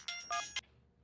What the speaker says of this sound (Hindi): अरे किसका फोन आ रहा है यार?